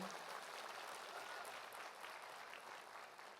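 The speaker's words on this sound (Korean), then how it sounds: "보통 이때 박수를 한번 네." A small audience applauds a guest speaker at a talk event, the clapping steady and moderately faint, spread evenly through the room without pause.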